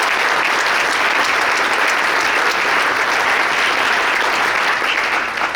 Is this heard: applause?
yes